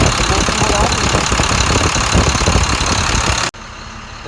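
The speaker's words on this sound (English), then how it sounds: "the truck is running very nicely. I mean, the engine is running real smooth." A DT 466 truck engine runs right after its first start-up, a loud, close, steady rumbling idle that cuts off abruptly to a much quieter background near the end.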